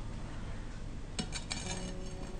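A cooled kefir-dough pie is turned out onto a plate, giving a few quick clinks of dishes and cutlery against a steady kitchen background, close and fairly soft.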